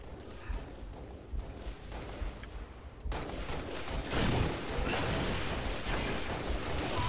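Gunshots in the online multiplayer video game Halo MCC: dense, noisy battle sounds that jump louder partway through into a continuous wash of rapid firing and clanking mechanisms.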